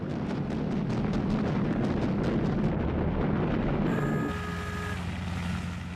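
Bombs from US bombers explode during a WWII attack on Japanese aircraft carriers, a dense series of rumbling blasts, loud and continuous, then settling into a lower roar with a faint tone toward the end.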